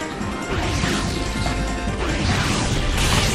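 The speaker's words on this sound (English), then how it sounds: "A smashing blow!" A heavy smashing hit lands during a Pokémon Battle Revolution battle, a loud dense crash with game effects that holds steady across the whole stretch.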